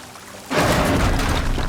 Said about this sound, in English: Water's coming from that vent.